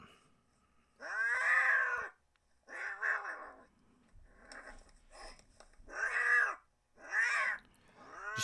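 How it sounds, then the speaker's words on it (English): A recorded adult cat predator call: a cat screams in five drawn-out, wavering yowls separated by short pauses, loud and harsh. "They just scream because they don't want handled at all. A good cat sound."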